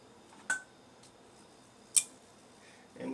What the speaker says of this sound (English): we hear the nice click of the relays in there